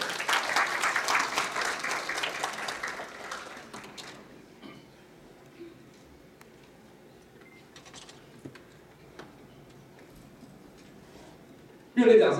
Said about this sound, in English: with our applause, let us welcome Dr. Lei.